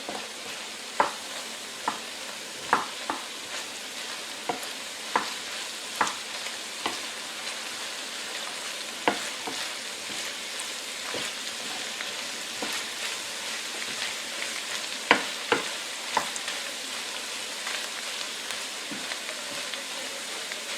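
Arroz chaufa frying in a pan over medium heat, stirred with scattered scrapes and clicks of the utensil over a steady close sizzle.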